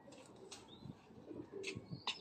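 A golden breeder pigeon coos softly in a loft. The faint, low murmuring calls come in short bursts, joined by a few brief high chirps and light rustles.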